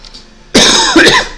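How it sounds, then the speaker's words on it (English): A single loud, close cough bursts out after a brief quiet moment, followed by a second rough hack, alone without speech. "Awful cough that's lingering."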